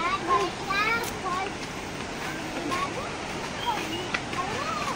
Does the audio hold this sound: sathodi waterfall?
yes